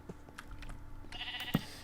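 A sheep in the game Minecraft gives a short bleat near the end, with brief clicks and thin tones around it.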